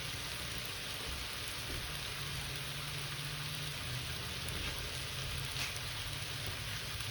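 Bourbon chicken fries in a pan, giving a soft, steady crackling sizzle like light rain, continuous and fairly quiet without pauses.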